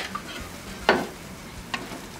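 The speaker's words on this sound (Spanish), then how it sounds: "Ahora vamos a mezclar bien." Casamiento of rice and beans stirred in a frying pan, with two short scraping strokes over a faint steady sizzle, close and alone.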